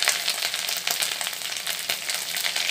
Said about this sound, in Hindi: लहसुन दे देमा